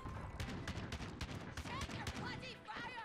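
Sustained gunfire in the Modern Warfare video game, with dense rapid bursts of shots and explosions crackling nonstop through the whole stretch, loud and close.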